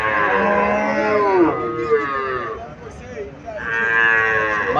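A Haryana-breed cow at a cattle market lets out long, loud, close moos, two drawn-out calls separated by a brief pause, with faint background murmur.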